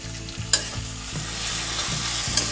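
Ground coriander, cumin, chili and turmeric with ginger-garlic paste fry in oil for a rohu fish curry, making a close, steady sizzle with rhythmic stirring scrapes and a couple of sharp utensil clinks.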